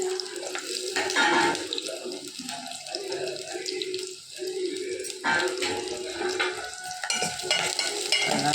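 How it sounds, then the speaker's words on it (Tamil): Sliced big onions sauté in a pan with a continuous moderate sizzle, broken by clattering stir strokes and a brief dip midway. "பெரிய வெங்காயத்தை சேர்த்துறோம்."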